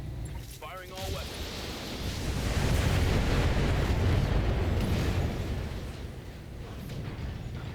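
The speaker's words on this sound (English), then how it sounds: "Firing all weapons." A BattleTech mech fires all its weapons at once in the video game, a sustained roaring rumble of blasts that swells and then fades, with a short voice fragment near the start.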